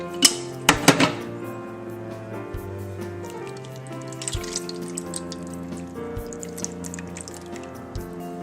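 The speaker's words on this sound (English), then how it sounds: "to this, I'm going to add another cup of water." A cup of water poured over a roast in a pan, a few sharp splashes at first followed by light trickling and dripping, heard close and alone.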